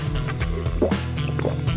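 Water poured from a container into a cup in a family mealtime setting, a short run of gurgling, trickling pours with background music running throughout.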